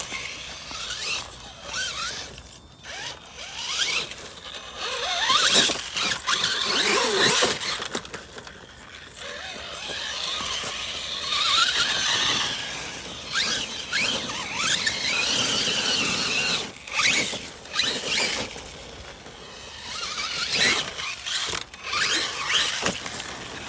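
An RC car's gyro steers the tires fully into the knuckles, giving long, loud, whining electric servo squeals and mechanical zipping sounds in repeated sweeps, broken by brief gaps.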